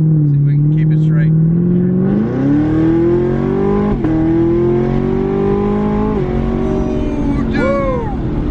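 A Chevrolet Camaro ZL1 with a Corsa Extreme exhaust accelerates hard from inside the car, its loud droning exhaust note climbing steadily through the gears with a brief shift dip, while occupants' voices break in near the end.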